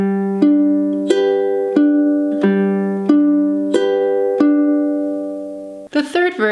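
Ukulele fingerpicking a pattern from a song at song tempo: clear plucked notes ring out one after another in an even, gentle rhythm, close and alone, before a brief clatter and voice at the very end.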